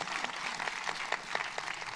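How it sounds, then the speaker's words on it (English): An audience applauding at a film panel event, a brisk patter of many hands clapping at moderate volume, steady throughout the short stretch. "Yes, applause."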